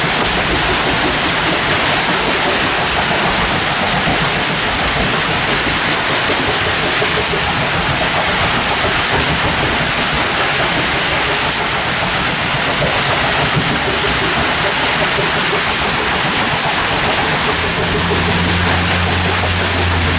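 Historic water wheel at an 1880s wool-carding mill turning under a steady, loud rush of falling water, a continuous dense roar with low churning underneath and no voices.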